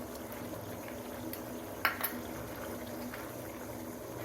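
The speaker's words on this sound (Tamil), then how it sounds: "கொஞ்சம் நெய் ஊற்றிக்கிறேன்." Ghee poured into a pan of cooking yellow pumpkin halwa gives a soft, steady sizzle and bubbling, with a couple of brief clinks partway through; no one speaks.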